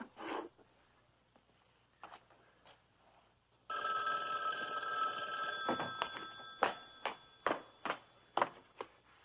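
An old telephone bell rings in the 1960s television drama Thriller, starting suddenly after quiet scuffles and continuing as a loud, sustained metallic jangle that breaks into rhythmic, repeated rings.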